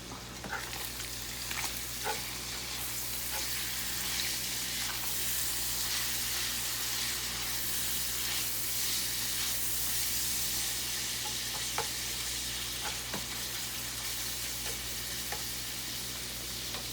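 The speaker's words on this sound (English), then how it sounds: "we're going to give that a stir real quick" Seasoned meat filling with garlic and black pepper sizzles steadily in a pan while being stirred, a close, continuous crackle with scraping stirs and no talking.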